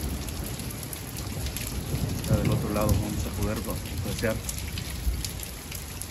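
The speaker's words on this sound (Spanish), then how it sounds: "esta tormenta invernal, nuestra primera tormenta invernal en esta medianoche" Steady rain pours during a midnight winter thunderstorm over the San Fernando Valley, with low rumbles of thunder beneath it while someone talks over the downpour.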